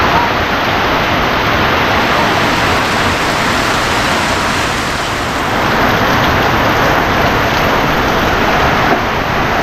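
Heavy rain pours down steadily in a forest, a dense, loud, continuous hiss with no pauses and no voices.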